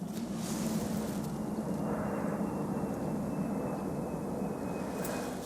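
Low, steady roar of an airplane passing overhead, a broad rumble that holds evenly throughout with no talking.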